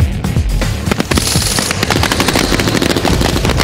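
Automatic gunfire as a patrol puts down fire: loud, rapid, continuous shots crackling without pause, with echoing booms layered under the dense volley.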